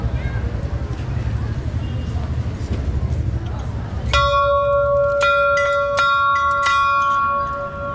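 A bell at Bhairavnath Temple in Bhaktapur Durbar Square is struck several times, ringing clearly and repeatedly over a steady background of outdoor crowd noise.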